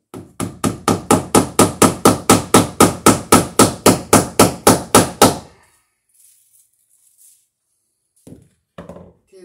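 Hammer blows driving staples over electrical wire into a wooden wall stud during a house rewire: about eighteen sharp, evenly spaced strikes close up, then silence and a few faint knocks.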